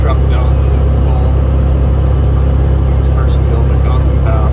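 A truck loaded with hay labours up McDonald Pass in Montana, its engine giving a loud, steady low rumble throughout with no breaks.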